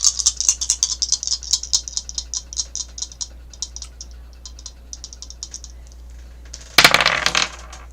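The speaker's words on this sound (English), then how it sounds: "Now onto the astrology dice." Astrology dice are rolled and shaken, giving about six seconds of rapid, fairly close rattling clicks. A brief, louder clatter follows near the end as they land.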